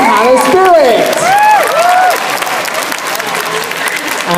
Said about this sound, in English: please give a massive round of applause for our guests on Primeval to the panel today.